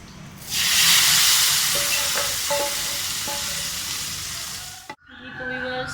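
Loud sizzle bursts up as hot oil tempering is poured into haleem stew, then settles into a steady hiss with a few clinks, stopping abruptly before quieter frying resumes.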